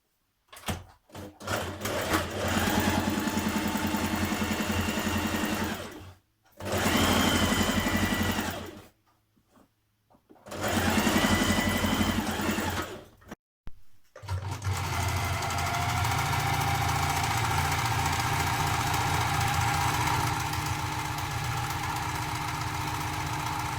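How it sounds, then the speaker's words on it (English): A sewing machine edge stitches the seams of a playsuit refashioned from a duvet cover, running in three loud bursts with short pauses, then settling into a long, steady mechanical whir close by. "you can overlock or edge stitch to neaten up your seams"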